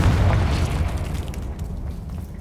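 A Confringo fire spell explodes in the video game Hogwarts Legacy, a single heavy booming blast with a deep rumble that decays over about two seconds.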